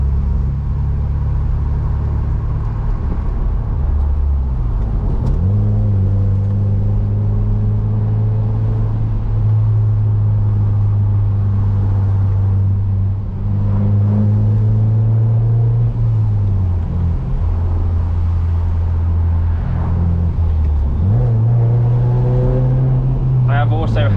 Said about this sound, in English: Also had a custom exhaust done on the car, stainless steel throughout.